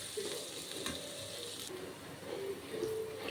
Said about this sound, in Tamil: இந்த டைமில் நம்ம சாப் பண்ணி வச்ச ஆனியனை போட்டுடலாம். இதை நல்லா கோல்டன் ப்ரௌன் வர வரைக்கும் ஃப்ரை பண்ணிக்கணும்.